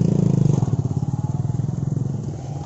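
A motorcycle engine idles with a steady, rapid pulsing beat close by, slowly fading slightly as the bike is brought to a stop in a large open parking ground.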